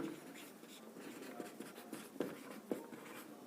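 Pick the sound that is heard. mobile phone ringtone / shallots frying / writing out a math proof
writing out a math proof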